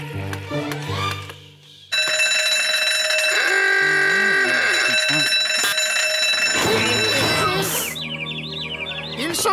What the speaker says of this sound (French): ma nouvelle invention de sonnerie de réveil fonctionne parfaitement